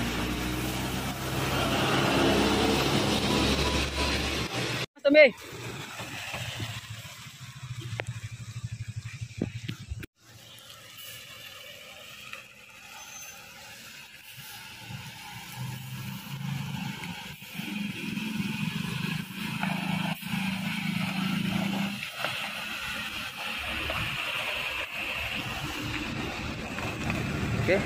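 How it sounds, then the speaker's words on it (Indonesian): An Adhi Putra Big Top bus engine rumbles and idles as the coach rolls into its storage garage, with an abrupt loud clunk partway through, steady low drone, and a brief voice. "Jadi sebentar busnya akan masuk ke dalam gudang."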